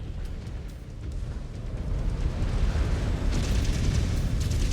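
A BattleMech blowing up in MechWarrior 5: Clans, a deep rumbling game explosion that swells and holds as a dense, roaring boom for several seconds, loud and without speech.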